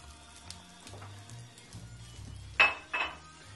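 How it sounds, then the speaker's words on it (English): Pre-browned sausage goes into a pan with a few muted scrapes and bumps, followed by two sharper metallic clinks of utensil against cookware, close up and quiet otherwise. "We'll start by putting this in one pan."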